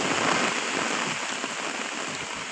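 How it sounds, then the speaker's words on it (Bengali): Heavy rain pours steadily during a violent storm with strong wind in a rural area of Bangladesh, a dense continuous hiss with no voices. "এত বাতাস, এত বৃষ্টি।"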